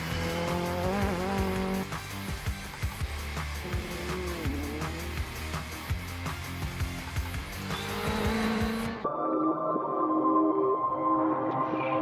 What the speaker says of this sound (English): Well, there's another R5 car running here in Ypres.